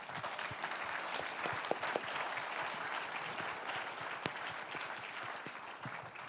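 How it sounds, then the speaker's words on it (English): Audience applause fills a symposium panel on workforce development, a steady wash of many hands clapping with a few sharper nearby claps, continuous and moderately loud throughout with no talking. "Can we please give everyone with their hand up a round of applause?"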